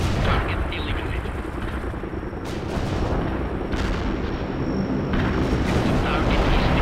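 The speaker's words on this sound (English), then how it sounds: "Carpet bombing requested." Carpet bombing in the video game World in Conflict, a dense, continuous roar of overlapping explosions and rumbling blasts that fills the whole stretch, loud and close, swelling in waves with brief dips between salvos.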